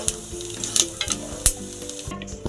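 Grated coconut sizzles and crackles in hot oil in a pan for coconut chutney, with sharp stirring scrapes and pops close by.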